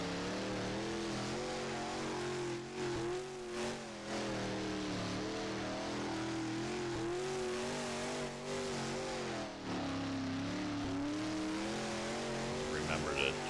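A late model race car in a dirt track video game drones and revs steadily, its engine pitch rising and falling as it drives on, with someone talking over the constant engine tone.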